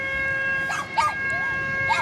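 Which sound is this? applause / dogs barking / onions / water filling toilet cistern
dogs barking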